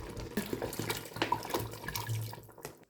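Water splashes and gurgles steadily as it is poured into a cooking pot of Akeza Isombe, a soft, continuous trickle close by with no talking.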